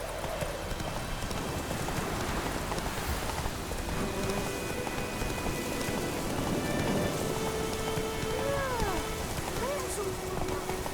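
Steady rain pours down across an open landscape in The Witcher 3: Wild Hunt, a constant dense hiss that runs throughout. Faint tonal game sounds rise and fall in the background late on, and no one speaks.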